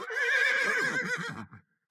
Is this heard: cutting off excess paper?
no